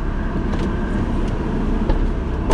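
A blue Ford Mustang pulls away, its engine a steady, loud, close rumble with a few brief rises in revs and no talk over it.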